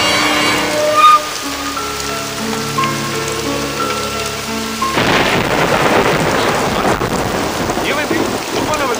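A loud storm is under way, with heavy rain hissing and pattering on surfaces and thunder rumbling. A tonal backdrop fades out midway, and then the rain roars on its own and more densely.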